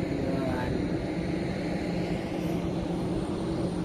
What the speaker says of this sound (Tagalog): antayin natin may lumipad ulit ng eroplano